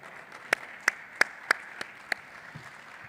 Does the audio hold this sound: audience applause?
yes